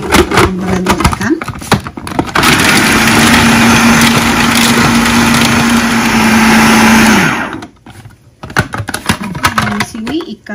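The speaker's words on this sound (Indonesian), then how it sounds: "Di sini ada 2 butir putih telur dan ditambahi blender ikan." Kitchen blender grinding fish fillet with two egg whites for chicken, fish and shrimp siomay: a loud, steady motor whine runs for about five seconds between stretches of someone talking.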